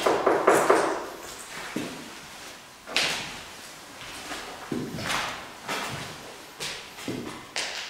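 Irregular sharp knocks and thumps in an abandoned sanatorium during a paranormal investigation, about five distinct hits spread unevenly, moderately loud and close, with no talking.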